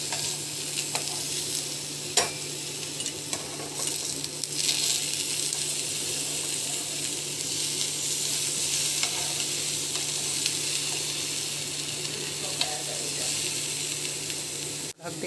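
Eggplant (baigan) slices fry in a pan with a steady, close sizzle throughout, broken by a few sharp clinks and scrapes as a spoon flips them.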